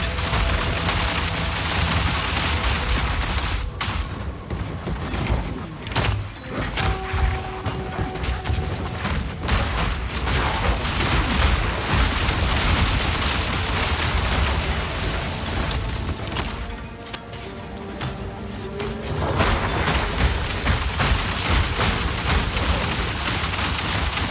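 Mercenary weapons firing in Path of Exile 2, a dense continuous barrage of gunshots and booms layered over game music and effects, loud and sustained throughout.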